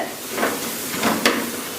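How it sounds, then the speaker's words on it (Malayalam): A steady sizzling hiss of tomatoes frying in a pan, with a few soft stirring scrapes rising and fading. "ഇനി നമ്മൾ തക്കാളി ഇട്ട് കൊടുത്തിട്ടുണ്ട്"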